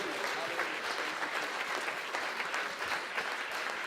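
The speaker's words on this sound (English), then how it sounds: "Let's give another clap to the Lord" A church congregation at a watchnight service claps together for the Lord, a steady, full-room burst of many hands applauding, moderately distant and fairly soft.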